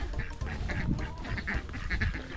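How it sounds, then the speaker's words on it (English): Two ducks, an Indian runner female and a Welsh harlequin male, quack and honk repeatedly at close range on a glamping site, a steady run of nasal calls. "We've got two ducks, come in there."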